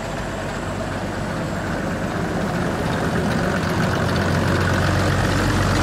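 An Allis Chalmers Gleaner A combine engine runs steadily while emptying barley straight into a grain pit, a loud, constant low diesel drone with no breaks and no voices.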